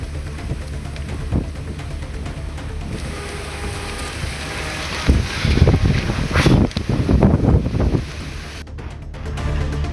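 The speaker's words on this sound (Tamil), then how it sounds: "திடீரென பலத்த சூறாவளி காற்று வீசியது" Strong storm wind roars and gusts in a continuous broadband rush outdoors during a cyclonic rainstorm, swelling louder in buffeting blasts midway through with heavy microphone wind noise.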